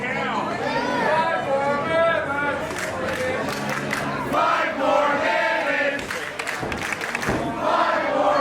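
Independent wrestling crowd at an LPW show shouting and jeering in displeasure after a match ends in a time limit draw, loud overlapping chants and yells that swell and dip throughout.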